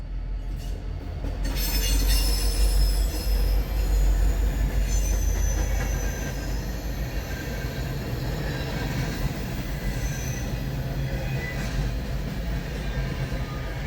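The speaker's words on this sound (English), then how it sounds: "I got the freight train that I was waiting for" A short freight train rumbles across the historic stone Thomas Viaduct of the B&O Railroad in Relay, Maryland, a loud sustained roll of wheels with squealing and rattling throughout, and no voices.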